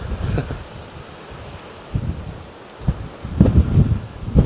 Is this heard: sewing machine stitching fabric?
no